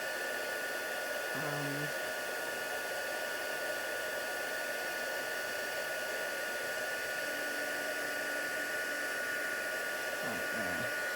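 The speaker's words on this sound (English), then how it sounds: "So just bring in my embossing tool." A heat embossing tool blows hot air in a steady, loud whooshing hiss for the whole stretch, with a fan whine on top and a few brief soft voice sounds underneath.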